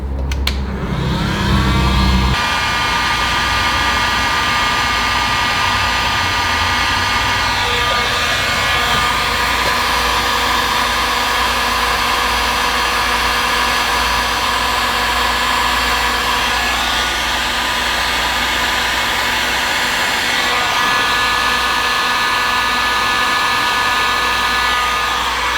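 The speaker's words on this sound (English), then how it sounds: "And you just take your heat gun" A heat gun blows steadily and loudly, shrinking heat shrink tubing over a wire, its continuous whooshing roar starting abruptly and holding nearly unchanged for the rest of the stretch.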